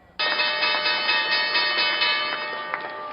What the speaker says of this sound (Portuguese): O sino marca o final de um dia que vai entrar para a história da Bolsa de Valores de Nova York